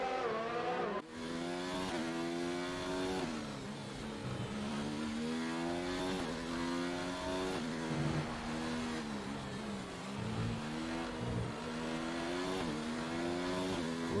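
A Williams Formula One car engine in F1 2019 roars continuously, its pitch rising and falling through gear changes as it speeds along, loud and close with no talking.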